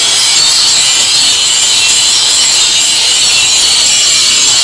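A DongCheng DSM21-100E electric angle grinder is pressed hard into its work, giving a loud, continuous, harsh grinding hiss that holds steady throughout with no talk.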